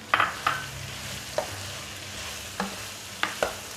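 Finely chopped large potato tumbles into frying masala for beef aloo matar keema, followed by a few sharp scraping stirs spaced irregularly over a steady low sizzle, close and alone.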